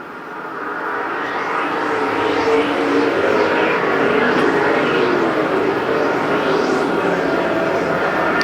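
Super stock race cars roar around Perris Auto Speedway during a main event, a dense, loud engine drone building over the first seconds and holding steady with passing swells.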